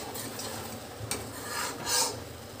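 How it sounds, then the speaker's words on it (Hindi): Thickened milk with sugar is stirred in a pan for rusk barfi, a quiet spoon scraping and rubbing against the metal in a few uneven strokes, close and soft with no talk. "इसे मिलाएंगे।"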